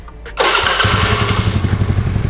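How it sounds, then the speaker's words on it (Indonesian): A rebuilt Cub Matic motorcycle engine cranks and catches with a sudden loud burst, then settles into a smooth, even idle with a rapid regular putter, close by. "Jadi teman-teman bisa dengerin suaranya halus mesinnya"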